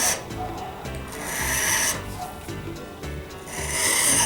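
The back of a steel chisel rubs across a sharpening stone in repeated rasping strokes, a close, steady scraping that rises and falls with each pass.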